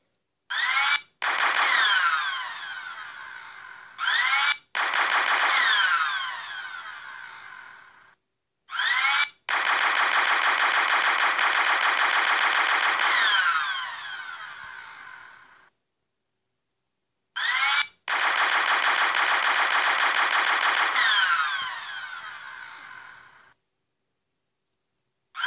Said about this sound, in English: There's an explosive minigun! Can I fire it?